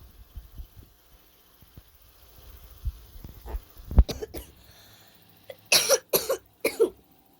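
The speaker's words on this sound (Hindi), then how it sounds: "खांसी आ जाती है।" Several sharp coughs near the mic, a cluster of bursts in quick succession toward the end after some quieter rustling.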